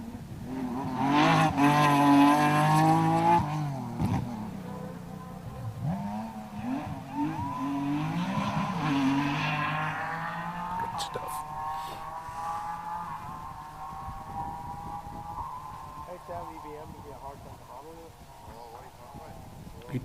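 A slightly modified rally car drives at speed on a Circuit of Ireland Rally stage, its engine loud and rising and falling through gear changes while a commentator talks over it throughout.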